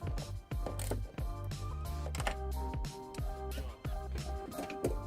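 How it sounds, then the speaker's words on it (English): A ratchet wrench with a 10mm socket tightening a hex nut onto a ring connector during trailer wiring installation on a 2020 Kia Optima, giving repeated rapid clicking strokes in bursts, quiet and close, no talk. "Installing our loop or eyelet or ring connector and replacing the hex nut."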